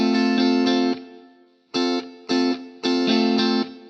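An electric guitar with distortion and chorus-type effects strums a song's pattern, giving sustained bright chords followed by a decaying ring and then three choppy rhythmic strokes.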